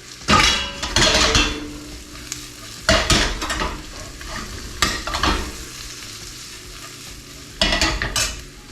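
Green beans go into a hot skillet with onions, sausage and garlic, sizzling and frying steadily while a spoon stirs and scrapes the pan in several bursts of clattering metal contact.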